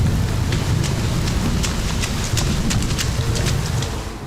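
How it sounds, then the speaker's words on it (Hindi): Steady rain patters down on a mountain in a forest with scattered sharp drip-like ticks, a broad continuous hiss with low rumbling underneath, no voices. "पर्वत पर कदम रखते ही बारिश शुरू हो गई।"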